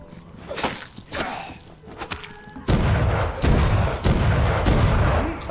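Gunshots in the video game Vampyr: a few sharp booming shots and thuds in the first half, then a louder, denser burst of rapid firing and rumbling impacts that runs to the end.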